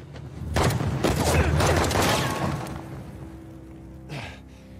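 Gunfire in the Uncharted: The Lost Legacy video game, a burst of loud shots and booms with echoing debris in the first few seconds, fading to a rumble, then one more sharp report near the end.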